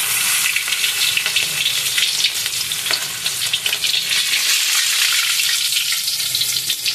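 Hilsa fish with roe frying gently in a pan over low heat, giving a steady, close sizzle and crackle of hot oil that runs unbroken throughout with no voices.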